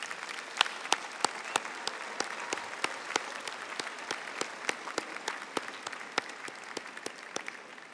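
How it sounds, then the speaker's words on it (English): Graduation audience applause in a large university arena for the Auburn University spring ceremony: sustained, even clapping from many hands, with sharper individual claps popping out, at a moderate distance. "join me in a round of applause and thank them for their support of you"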